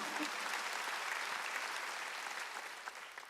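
A church congregation at a Wednesday worship service breaks into sustained, dense applause, a steady wash of many clapping hands that fades slightly toward the end.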